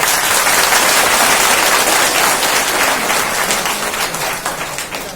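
Sustained loud applause from a large gathered audience honouring a national coordinator, dense clapping filling the whole stretch and easing slightly toward the end, with no voices over it.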